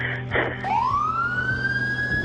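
A Tampa Fire Rescue engine's siren winds up from low to high and holds a steady wail over a rumbling engine, with a brief horn-like blast just before it rises.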